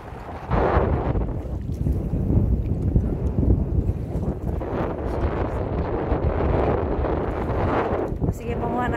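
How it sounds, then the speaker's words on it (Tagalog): Strong wind at the seashore buffets the microphone in heavy, continuous low roaring gusts, loud and close throughout, with a person talking over it. "Pero mahangin. Super ang hangin dito guys."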